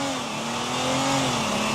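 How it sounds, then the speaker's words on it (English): In a video game, a race car launches on nitrous: a loud, close, steady engine whine climbs slightly in pitch over a brief stretch, with no voices. "I'm going to run with nitrous on."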